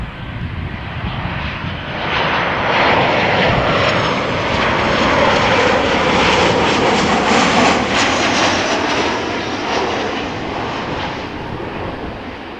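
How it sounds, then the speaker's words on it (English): A Smartwings Boeing 737-800, fourteen years old, arriving at Amsterdam Schiphol from Nice roars past as a loud, broad jet rumble that swells in the middle and eases off toward the end, with no voices. "Smart wings arriving from Nice. 737-800, 14 years old."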